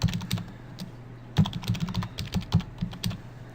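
Close, quiet keystrokes on a computer keyboard as a password is entered: an irregular run of light taps with a brief pause, then a quicker burst of clicks.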